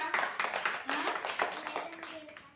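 Children clap in a classroom, a quick ragged burst of hand claps at moderate distance with a voice talking over them.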